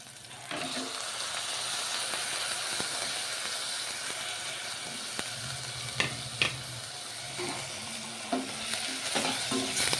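Goat spleen sizzles and fries in a hot pan with a steady hiss, while a utensil scrapes and clinks against the pan in occasional stirring strokes, heard close up.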